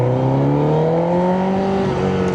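A Honda CBR1000RR motorcycle exhaust revs loud and close, rising in pitch as the throttle opens, with a steady strong engine tone throughout.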